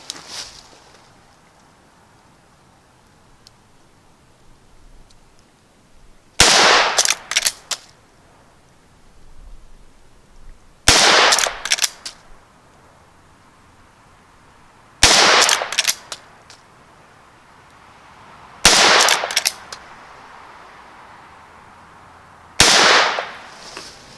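A Henry 17HMR rifle fires Hornady rounds outdoors, five sharp, loud shots spaced several seconds apart, each followed by brief clattering, with quiet background between them.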